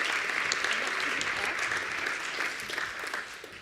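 An audience at a university innovation hub launch event applauds steadily, a dense wash of many hands clapping that fades slightly toward the end.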